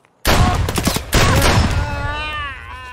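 Shotgun fire in the video game Escape From Tarkov, with two loud booming blasts in quick succession that ring out and trail into a long rumbling echo, close and dominant.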